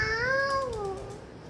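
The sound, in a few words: child imitating a cat's meow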